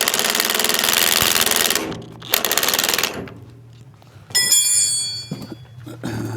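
An impact wrench runs bolts down on a 1986 Chevrolet C10 truck in a garage, firing loud rattling bursts of hammering, the first long, then shorter ones separated by a low background hum.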